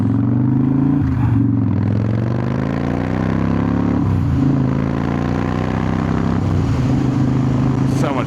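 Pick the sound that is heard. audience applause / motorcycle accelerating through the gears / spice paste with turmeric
motorcycle accelerating through the gears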